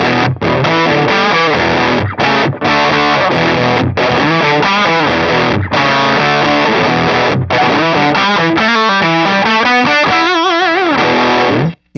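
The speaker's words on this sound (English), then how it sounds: "a very much overdrive sound versus what I would consider distortion" Electric guitar played through a JHS PG-14 distortion pedal with the drive set about halfway, giving a loud, continuous overdriven tone of chords and single-note runs for about twelve seconds before cutting off abruptly.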